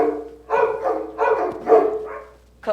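A stage sound effect of dogs barking for a theatre production of Clue: five or six sharp, close barks come in quick succession, with a brief pause before a final yip.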